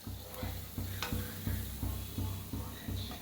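Chakli snacks fry in hot oil with a steady, close sizzle and a regular ticking bubble pulse about three times a second, with no voices.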